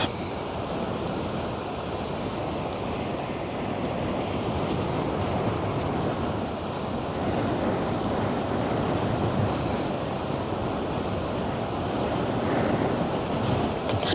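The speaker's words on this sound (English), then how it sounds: "Splash. I love how the water is hitting that bow." Waves and surf wash against a ship's bow on the Westerschelde near the Terneuzen pier, a continuous churning rush with wind noise over the microphone and a small splash near the end.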